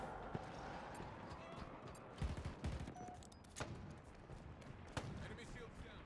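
Turret gunfire in Halo Infinite sounds as sharp, scattered bursts over a noisy firefight, with loud cracks standing out among lighter shots.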